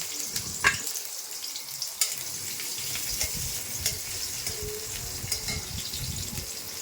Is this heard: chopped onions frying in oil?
yes